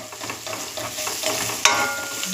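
Turmeric and ginger fry in a hot pan for a dhaba-style egg masala curry, giving a steady, dense sizzle with a spatula scraping through it and one brief sharper clatter near the end.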